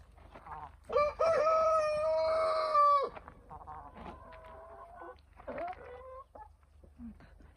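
A backyard rooster gives one loud, drawn-out crow near the microphone, followed by scattered short clucks and calls from the flock of chickens.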